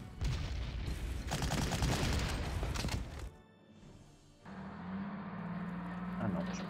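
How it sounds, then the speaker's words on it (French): Artillery fire rings out in the Panzer Corps strategy video game. A dense burst of booming shots rumbles for about three seconds, then the noise drops to a quieter droning hum. "Le tir d'artillerie, puis probablement"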